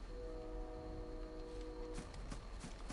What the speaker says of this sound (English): That train is a little loud.